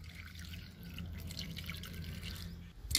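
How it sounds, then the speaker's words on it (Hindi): A cup of water being poured onto jaggery in a pan while making laddoos, a quiet trickling and splashing over a low hum, ending in a brief louder clatter. "ये हम एक कप पानी डाल रहे हैं"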